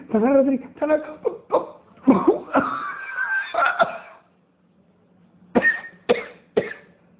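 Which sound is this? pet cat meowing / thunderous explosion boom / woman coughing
woman coughing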